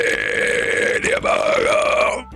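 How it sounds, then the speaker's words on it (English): A long, loud, close burp rolls out continuously for about two seconds, with a brief break midway before trailing off, heard alone without talk. "that was a beautiful burp."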